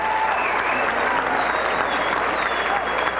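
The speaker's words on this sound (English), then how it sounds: "How about a round of applause for that" A crowd applauds after a taekwondo demonstration at the 1999 Battle of Atlanta karate tournament, continuous clapping and cheering in a large hall with a few whistles rising over it.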